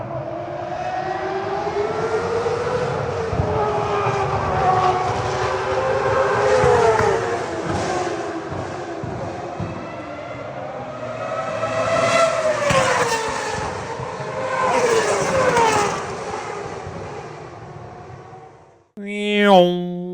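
A voice imitates a Ferrari V10 Formula 1 engine, with a sustained high-pitched wail that rises and falls through gear-like sweeps for about twenty seconds, then briefly cuts off before a short final burst.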